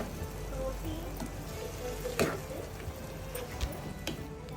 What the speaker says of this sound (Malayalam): അത് നമുക്ക് ഈ അരപ്പിലേക്ക് ഇട്ട് കൊടുക്കാം എന്നിട്ട് വീണ്ടും നന്നായി ഇളക്കി യോജിപ്പിക്കുക